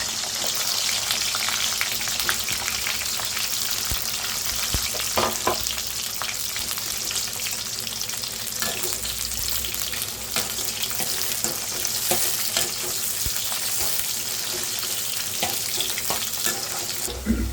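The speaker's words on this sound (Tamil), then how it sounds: "இப்போ வெண்டைக்காயை போட்டு வதக்கி எடுத்து வச்சுக்குவோம்." Okra, ladies' finger, sautés in hot oil for a spicy tamarind kuzhambu, a dense continuous sizzle close up with scattered stirring scrapes and clatter throughout.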